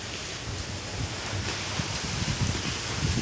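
Wind blows steadily at a forest temple in Khong Sedone as weather rolls in, a broad continuous rushing roar with gusty rumbles buffeting the microphone.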